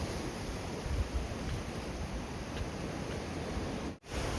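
Sea waves along the Oeongchi coast in Sokcho, heard as a steady broadband wash of surf with a brief dip near the end, no talk.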